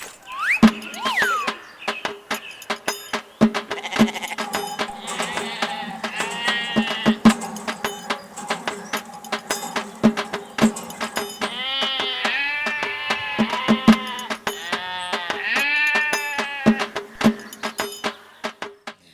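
A herd of goats bleats repeatedly at close range in a rural village setting, overlapping wavering cries over a busy backdrop of clicks and rustling, with no clear talk.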